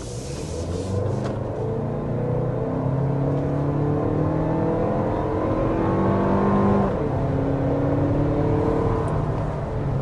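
A Lexus TX 350 SUV with a turbocharged 2.4-liter four-cylinder accelerating hard to 60 mph, heard from inside as a steady engine drone rising through several gear shifts, loud and continuous with no talk.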